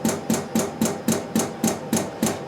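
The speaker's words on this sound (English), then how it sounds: "As you turn the regulator, the pump will start actuating. You'll hear the sound of it." A CO2 pump on an SFT-120 extraction system actuates as its regulator is turned, giving a steady run of eight evenly spaced mechanical strokes, each a sharp knock with a short hiss, close and alone.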